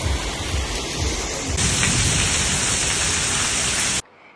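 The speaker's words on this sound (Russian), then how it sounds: "Сегодня у нас снова дождливый день." Rain falls on an autumn day in Odessa as a dense, steady hiss that grows louder partway through and then cuts off abruptly near the end, with no talking.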